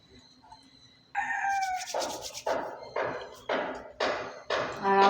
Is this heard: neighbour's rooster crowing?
yes